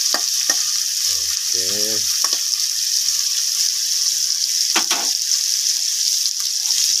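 Meat and tomato fry in a pan with a steady bright sizzle throughout, broken by a few scraping stirs and a brief clink, while a voice says a single short word.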